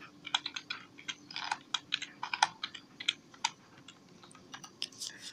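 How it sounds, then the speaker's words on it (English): Computer keyboard typed with one hand: slow, uneven clusters of light key clicks with short pauses, close and fairly quiet, no talking. "So hard typing like this because I'm typing with my other arm,"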